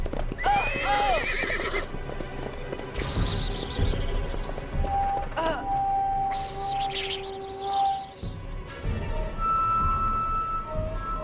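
Loud, shrill whinnies from a large grey horse ring out several times over a busy background of hoofbeats and movement, with a few sharp crashes.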